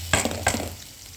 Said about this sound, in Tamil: இந்த வெங்காயமும் இந்த பச்சை மிளகாயும் இதில் சேர்த்துக்கிறோம்